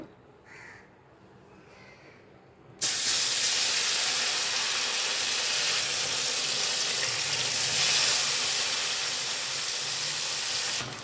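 Kachki fish coated in salt and turmeric drop into hot oil. A sudden loud, broadband sizzle bursts out and keeps hissing steadily and close-up after a quieter opening moment.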